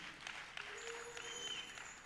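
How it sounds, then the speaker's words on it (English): An audience applauds a panel at a World Arts Day celebration, a steady, faint wash of clapping with no talk over it. "A round of applause for my panel."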